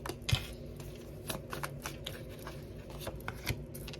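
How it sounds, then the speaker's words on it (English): Tarot cards being shuffled and pulled from the deck, close and soft, with a run of quick papery riffles and flicks, a few sharper snaps standing out, no talking. "I'm just going to pull some cards here."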